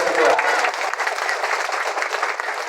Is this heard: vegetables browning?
no